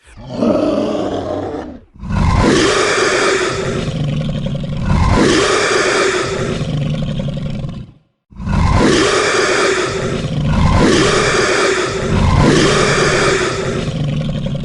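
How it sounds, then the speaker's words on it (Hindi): A huge, powerful gorilla roars loudly at night, long rough bellowing roars repeated several times with brief breaks between them, close and dominating. "उसने जोरदार दहाड़ मारी।"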